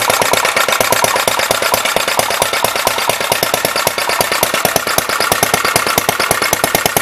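A small Megatech transparent model engine runs with a rapid, even stream of sharp mechanical clicks and knocks. The close, loud chatter keeps a fast steady rhythm throughout.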